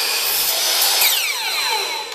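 Power tool cutting a wood piece for a corner shelf, a short loud whine of blade through timber, close and continuous with a slight pitch drop near the end.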